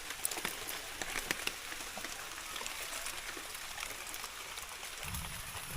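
Rain falls steadily outdoors while native snails are gathered, a soft continuous hiss with scattered light patters throughout.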